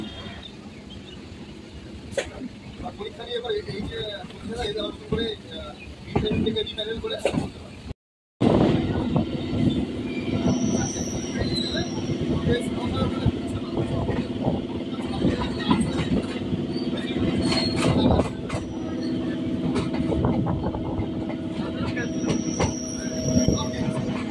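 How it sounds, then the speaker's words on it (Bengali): A local train on the Dum Dum to Ballygunge line via Princep Ghat creeps slowly across points while changing tracks, its wheels rumbling, clanking and squealing up close. The sound cuts out briefly near the start, then the rolling clatter continues steadily. "আমাদের ট্রেন এখন লাইন চেঞ্জ করছে, তাই একদম ধীরে ধীরে চলছে"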